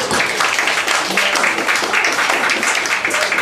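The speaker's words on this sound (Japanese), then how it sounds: "拍手お願いいたします。" A live jazz club audience in Asakusa applauds a pianist just back from New York, a dense wash of many hands clapping steadily and fairly loudly.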